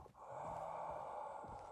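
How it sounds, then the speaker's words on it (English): Heavy, close breathing from a Fallout 4 horror mod, a faint but steady raspy exhale with a brief snort-like gasp at the start, heard alone without talk. "Stop breathing in my ear, you pricks."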